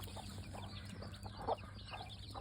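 Free-range gamefowl hens cluck softly among a clutch of day-old mongrel chicks, with low continuous murmuring clucks and one slightly louder call midway, close by outdoors with no voices.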